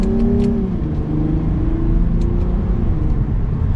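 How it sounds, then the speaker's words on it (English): A 2022 Lexus IS 350 F Sport accelerates from second gear, its engine and exhaust building in a smooth, loud, rising tone from inside the cabin, with no talking. "And now we can give it a little bit of gas from second."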